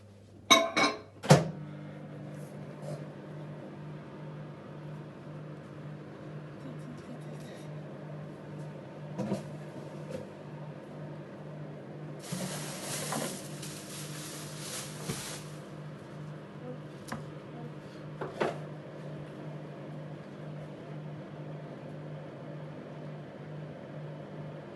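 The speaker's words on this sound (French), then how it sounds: "Je vais faire ramollir le beurre 1 minute au micro-ondes très rapidement pour l'incorporer avec les œufs." A microwave oven softening butter gives a steady low hum for about twenty-five seconds. Occasional clicks and a brief burst of kitchen clatter sit over the drone.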